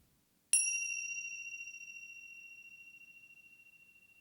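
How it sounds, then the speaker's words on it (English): A single meditation bell is struck once, a clear bright ring that sustains and slowly fades over several seconds in an otherwise quiet space. "let's just tune into the sound of the bell, following the sound of the bell all the way until it vanishes."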